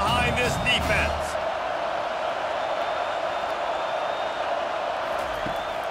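A stadium crowd cheering in EA College Football during an Ole Miss at South Carolina game, a steady loud roar with whoops and a thump early on, sustained as a broad wash across the whole stretch.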